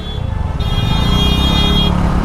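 Steady roadway traffic rumbles close by on a congested road, engines droning, with a sustained car horn blaring for over a second in the middle.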